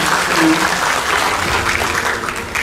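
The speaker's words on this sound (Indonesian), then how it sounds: "Tepuk tangan semuanya." Applause from a crowd of university students fills the room, a dense continuous patter of clapping, loud and close, with a voice briefly heard under it.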